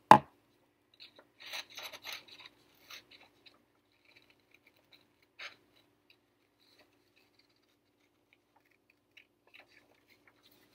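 Scissors snip through paper in short quiet bursts of clipping and rustling, close by, with pauses of near silence between cuts.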